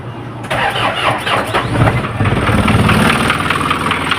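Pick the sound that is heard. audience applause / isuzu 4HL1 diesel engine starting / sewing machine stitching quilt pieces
isuzu 4HL1 diesel engine starting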